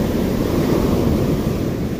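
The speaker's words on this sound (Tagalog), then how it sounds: "Ayan, may alon." Steady rushing wash of ocean waves at sea during fishing, a dense broadband roar with slight wind noise on the microphone.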